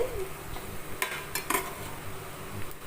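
Okra being sautéed in a pan for a thick Tamil-style okra relish, with a faint steady sizzle, soft stirring and scraping of a spoon against the pan, and a few louder clinks standing out; no talk.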